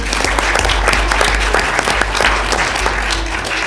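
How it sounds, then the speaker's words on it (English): An audience at a city council meeting claps together for special guests, a steady, full round of applause from a room of people that holds at an even level from start to finish. "Let's all clap."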